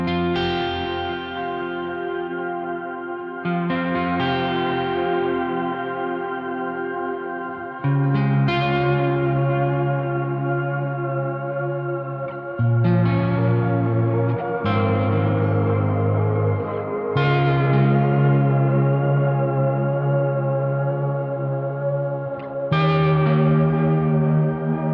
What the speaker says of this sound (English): tape delay with the wow and the flutter turned up are going to give us a sort of lo-fi vibe